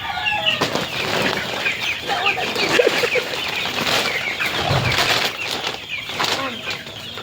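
Stag roosters and chicks are fed, with busy wing flapping, scattered clucks and chirps, and scratching that blend into a continuous close farmyard bustle.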